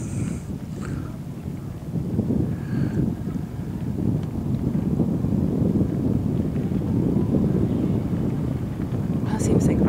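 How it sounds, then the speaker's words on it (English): Steady wind roars across the microphone beside a lake during a fast-moving fire, a broad continuous rush that builds slightly over the clip with faint voices and crackle in the background. "Wind's just like not being kind."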